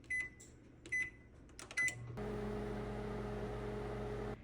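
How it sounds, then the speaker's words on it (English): A few short beeps sound first, then a steady low hum starts and keeps going, a microwave oven running nearby while melting butter. "Heat the butter in the microwave until it is completely melted."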